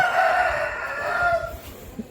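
A rooster at a farm selling fighting cocks crows once, a loud, nearby drawn-out call rising and then falling away, with faint clucks and farmyard noise underneath.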